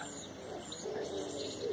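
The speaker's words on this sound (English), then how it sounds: "In that bush there above their houses is a load of pigeons." Pigeons coo from a bush above nearby houses outdoors, a soft low murmuring call that is faint under steady background noise.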